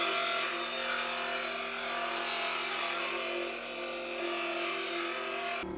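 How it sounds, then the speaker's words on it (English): A power drill whines steadily for several seconds while drilling bolt holes for a radiator bracket on a Corvette C3, a continuous, fairly loud grinding buzz with no pauses. "I hate drilling. So there's two holes."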